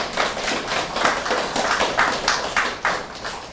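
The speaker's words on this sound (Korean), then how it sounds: "이럴 때 박수 한번 쳐봐요." A crowd at a local development council meeting claps in a brisk, rhythmic burst of many hands, fairly close and loud, without talking.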